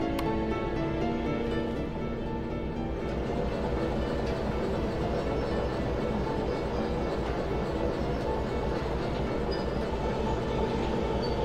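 A train locomotive runs in the Derail Valley video game, producing a constant heavy rumble and rolling rail noise at a steady level from inside the cab.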